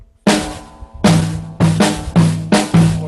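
A drum kit plays a 4/3 polyrhythm, with the right hand and right foot sounding the pattern together: loud, close, sharp hits arriving in an uneven repeating cycle, with no talking.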